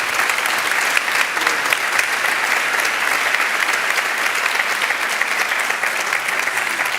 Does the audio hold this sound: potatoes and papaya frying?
no